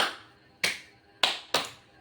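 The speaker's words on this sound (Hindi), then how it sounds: "कपालभाति करने के बाद ताली मुद्रा करनी है" Bare hands clap four times in the tali mudra done after kapalbhati breathing. The sharp, fairly close claps come at uneven intervals, with quiet between them.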